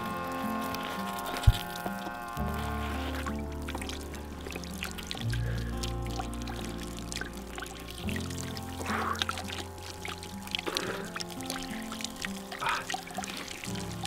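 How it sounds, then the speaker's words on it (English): Water pours steadily from an outdoor shower standing in snow, a continuous soft trickle and splash heard close by at low level with faint background tones and no talking. "while the water is pouring like this"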